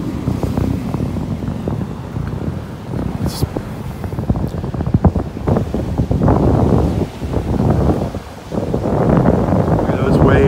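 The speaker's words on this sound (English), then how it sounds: "You're going to hear that wind blowing." Steady, loud wind roars and buffets close to the microphone on a beach in North Naples, Florida, with gusty surges and a rumbling low end throughout, waves nearby.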